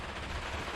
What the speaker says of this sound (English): Keep the machine guns going as well.